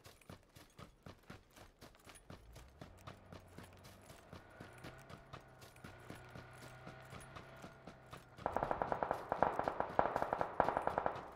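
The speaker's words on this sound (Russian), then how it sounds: "Причем хорошо так стреляют" Rapid gunfire in the PUBG video game, bursts of sharp shots in a steady rhythm, faint at first and then much louder and denser toward the end.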